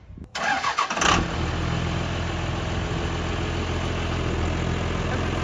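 A 1000 horsepower 12-valve Cummins diesel engine fires up and settles into a loud, rumbling, steady idle, close and continuous for several seconds.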